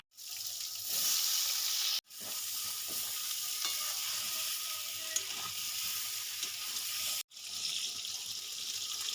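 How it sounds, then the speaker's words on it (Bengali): Brinjal (eggplant) pieces frying in leftover oil after pomfret fish, a steady loud sizzle broken by two brief silent cuts, with occasional stirring clinks. "এই তেলে আমি বেগুনগুলো ভেজে তুলে নেব"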